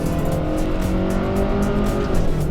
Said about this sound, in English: In sport mode, it pipes in a lot of sound.